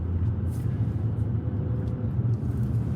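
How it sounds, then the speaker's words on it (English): Heavy road traffic in Las Vegas, heard as a steady low engine and tyre rumble from inside a moving vehicle, with no talking. "It is so much traffic."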